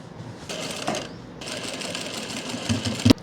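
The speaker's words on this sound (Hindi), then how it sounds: "जैसे पहले सिलाई लगाई थी उसके ऊपर ही सिलाई आपने लगा लेनी है" Sewing machine running steadily as it stitches over the zip facing fabric of palazzo pants, a close, continuous rapid needle chatter with a couple of brief pauses and a knock near the end.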